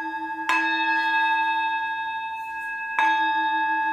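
A small antique Thadobati singing bowl in the classic Thado shape, with ritual slashes on the outside, is struck twice, each strike ringing out in a clear, sustained dual tone with long overlapping overtones.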